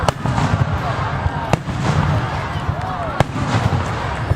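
A fireworks show bursts overhead, with sharp cracking booms punctuating a continuous crackle and rumble, several big reports spaced a second or two apart amid smaller pops.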